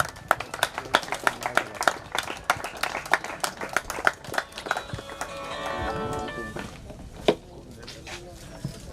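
Applause welcoming Sunil Kewat at a dragon boat Indian team selection closing ceremony, with bursts of claps alongside a voice announcing over a loudspeaker. Many sharp hand claps stand out clearly, while a steadier crowd rumble builds in the middle.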